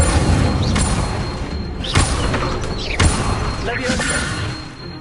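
A spell being cast in a Harry Potter video game, a whooshing burst with thumps near the 2- and 3-second marks over a busy background, with speech-like sounds mixed in.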